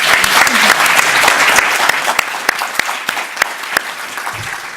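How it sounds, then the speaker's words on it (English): A crowd claps loudly for panelists at the end of a discussion, a dense burst of applause with a few sharp individual claps standing out, gradually thinning toward the end. "So join me in giving a final round of applause to our panelists."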